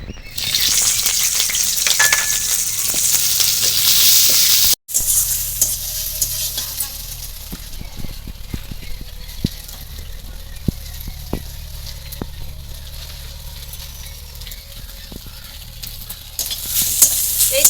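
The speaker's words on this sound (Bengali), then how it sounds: "আমি কড়াইতে তেল দিয়ে দিয়েছি এবার দিয়ে দিচ্ছি কাঁচা লঙ্কা চেরা পেঁয়াজ কুচি" Green chillies and chopped onion fry in hot oil in a wok, giving a loud, steady sizzle with occasional stirring scrapes and one brief cut in the middle.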